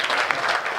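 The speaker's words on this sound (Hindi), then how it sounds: "जोरदार तालियां बजाकर उन्हें आमंत्रित करें" Dense applause from an audience at a Hindi comic poetry gathering, steady and loud throughout the short stretch, with no break in the clapping.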